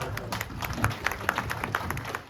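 A crowd gives steady, moderately distant applause at a teacher-honouring reunion held by former students of a government school in Kadasikoppa, Harohalli. The dense patter of clapping continues throughout.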